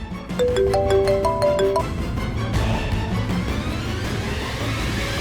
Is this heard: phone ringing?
yes